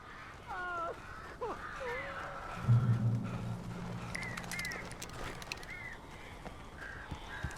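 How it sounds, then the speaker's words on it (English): Crows caw repeatedly in Alan Wake, harsh calls scattered across the scene, some close and some farther off, with a low voice murmuring briefly in the middle. "These birds are weird."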